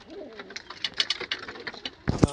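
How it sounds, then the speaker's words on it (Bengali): A pair of pigeons, one male and one female, coo softly in a series of short, close, repeated calls. A louder low thump or rustle breaks in near the end. "এটা নর পায়রা আর এটা মদা"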